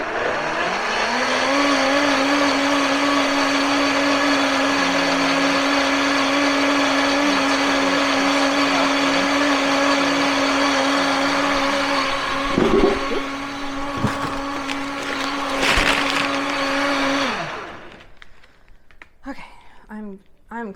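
A blender runs loud and continuous during home batch cooking, a steady roaring whir that holds for about seventeen seconds, then cuts off, and a voice follows.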